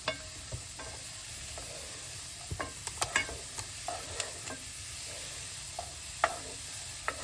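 Bolognese sauce just beginning to fry in a pan, a soft steady sizzle under scattered scraping taps of a spoon as it is stirred, fairly quiet and close.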